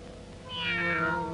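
A cat gives one drawn-out, rising meow close by, clear and fairly loud over a quiet indoor background.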